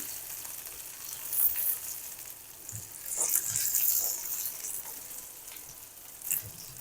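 Capsicum slices fry in a pan with a steady high hiss of oil, while a few soft scrapes and taps mark the pieces being turned over one by one.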